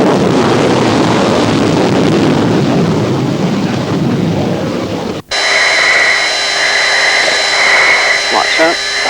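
An English Electric Lightning jet at Binbrook roars loudly on its takeoff run, a dense broadband rumble for about five seconds that cuts abruptly to a quieter cockpit-like hum with steady high whines and brief radio-style voice.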